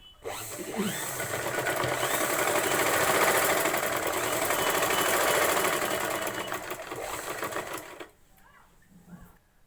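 Sewing machine stitching a prince-cut blouse, a fast steady rattling hum running for about eight seconds before stopping abruptly, followed by faint handling sounds.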